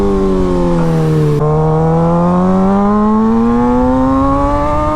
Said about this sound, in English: The sound of this bike is like perfect.